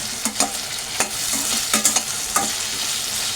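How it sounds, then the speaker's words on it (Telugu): Onion and tomato frying in a pan sizzle steadily while a spoon stirs them, giving a series of soft scraping clatters at close range. "ఒక టమాటా వేసుకొని కలుపుకున్నాం"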